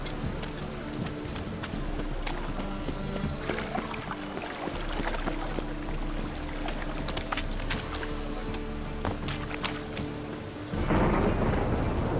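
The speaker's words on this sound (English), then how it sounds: "A storm, damn it." Thunderstorm with rain in Witcher 3: steady rainfall hisses throughout while scattered thunder cracks and rumbles roll in, ending in a loud, close burst of thunder.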